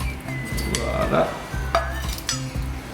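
Siphon coffee being mixed with a small wooden or plastic paddle, giving several soft scraping stirs in the glass chamber over a steady bubbling hiss, close and moderately loud.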